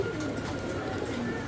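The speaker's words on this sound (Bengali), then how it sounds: "এখানে আরও এক পেয়ার কবুতর আছে, আউল কবুতর" Owl pigeons, a fancy breed kept in pairs, coo softly and steadily at close range in a short, continuous stretch, with no talking over them.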